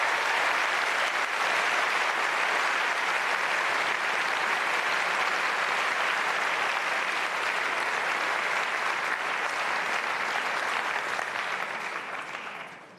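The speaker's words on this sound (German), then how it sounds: "Ihr Applaus, viel Erfolg" Sustained applause from a large audience at the FDP Three Kings' Meeting political rally in 2020, a dense steady roar of clapping that holds for the whole stretch and tapers off at the very end.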